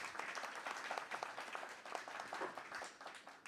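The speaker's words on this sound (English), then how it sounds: "Maybe a round of applause." Faint, distant applause from an audience, a steady patter of many hands clapping for a few seconds.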